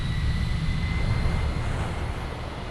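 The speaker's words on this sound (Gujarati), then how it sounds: "Checklist starting engine number 1." A jet airliner's number 1 engine starting up on the Mumbai to Delhi route, heard as a steady, fairly loud low rumble with a faint high whine, without speech.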